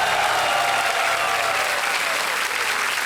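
Studio audience on the Indian game show Kaun Banega Crorepati applauding loudly and steadily for about three seconds, a dense wash of clapping with no talk over it.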